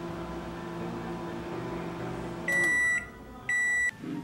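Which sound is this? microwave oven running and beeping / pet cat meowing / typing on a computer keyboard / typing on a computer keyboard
microwave oven running and beeping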